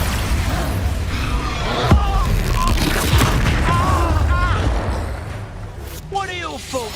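Spell blasts from the Expulso explosion charm in Hogwarts Legacy gameplay, a sharp boom thumping beneath near-continuous excited talk, with magical whooshes and game effects swirling around it.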